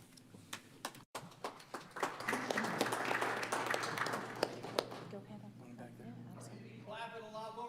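Scattered audience applause at a city council meeting fades into room noise, followed by a person talking near the end; a steady low hum runs throughout.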